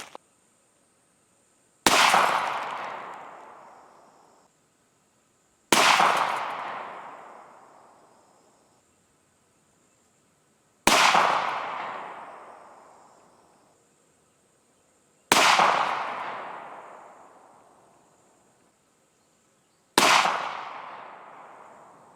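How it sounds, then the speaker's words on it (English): Five shots from a Ruger MAX 9 pistol fired into computers ring out a few seconds apart, each one a sharp, loud crack followed by a long fading echo, with silence between. "we shall put some bullets in it in different spots and see what happens"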